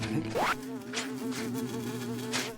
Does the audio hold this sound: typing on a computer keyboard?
no